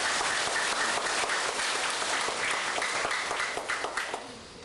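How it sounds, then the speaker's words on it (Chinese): A choir audience breaks into loud, sustained applause, dense clapping filling the space before gradually thinning toward the end. "咱搁练咧个掌声"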